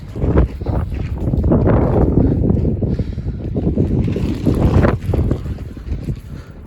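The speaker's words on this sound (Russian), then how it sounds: "Вот считайте, сейчас я вам показал ветер, который порывами до 45 метров в секунду пленка держится" Strong gusty wind buffets plastic film sheeting on a cowshed, a loud, continuous roar of broadband rushing with surges and flapping bursts, close to the microphone and without speech.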